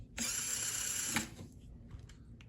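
Electric motor of an LDRC 18499 RC crawler with metal dog bones and brass bushings whines at full throttle for about a second, cuts out, then spins briefly again in reverse with fainter whirs and clicks.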